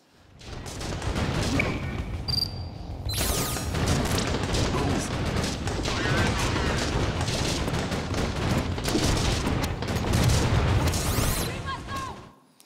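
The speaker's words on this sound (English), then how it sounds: "every time a bullet comes in, it closes, and bullets bounce off the shield" Bursts of gunfire striking an armored shield in a video game, dense loud volleys of shots with sharp metallic ricochet pings layered over sustained booming fire for most of the stretch.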